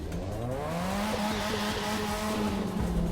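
A race car's engine holds a steady, rising rev with a distinct harmonic whine in The Crew 2 racing game, close and continuous, with a hint of tire squeal near the end.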